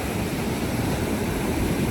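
Sea waves washing onto a beach, a steady soft roar of surf with no talking, fairly faint.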